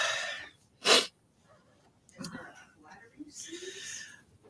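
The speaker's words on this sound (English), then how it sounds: "I'm going to unflatteringly sneeze." A person lets out one sharp, loud sneeze near the start, followed by quiet breaths and soft whispered sounds.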